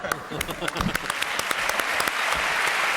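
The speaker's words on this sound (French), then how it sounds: "Mais, bravo, moi j'applaudis." An audience claps on a French television show, a short burst of scattered sharp claps quickly thickening into steady applause.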